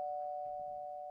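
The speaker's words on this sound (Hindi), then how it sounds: "देर रात अयान की नींद एक डोरबेल से खुलती है।" A doorbell late at night gives a single steady electronic tone, held evenly and fairly quiet, with no voices.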